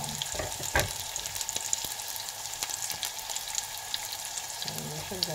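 Garlic fries in oil and is stirred in a pan for squid adobo, a constant nearby sizzle broken by sharp scrapes and clatters of stirring.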